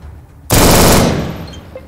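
A short burst of automatic rifle fire in ATOM RPG, loud and close, a single sustained rattle of rapid shots that then trails off into quiet.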